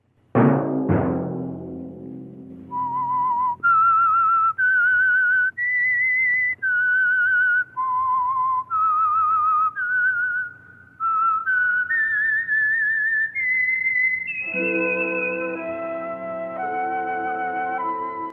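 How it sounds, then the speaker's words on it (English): A lone whistled theme tune serves as the signal for The Whistler radio show, a clear melody of held notes sliding up and down after a brief opening thump, with no talk. "Let that whistle be your signal for the Whistler each Sunday night at this same time."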